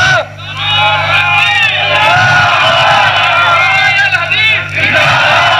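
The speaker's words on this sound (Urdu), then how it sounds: "نعرے مارے کرو" A large crowd at a religious gathering shouts slogans in unison, a loud, sustained roar of massed voices with rising and falling chanted bursts, continuous over a low steady hum.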